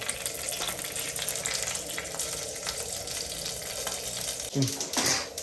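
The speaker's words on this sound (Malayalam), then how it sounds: "അപ്പം കടുക് പൊട്ടിയിട്ടുണ്ട്." Mustard seeds and curry leaves pop in hot oil, a continuous sizzling hiss with scattered crackles that swells into a louder burst near the end.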